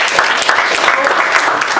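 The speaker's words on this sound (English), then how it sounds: "Okay, applause for 3D monkey." A crowd at a startup weekend pitch event applauds a team, loud sustained clapping close by, with a faint voice mixed into the steady patter.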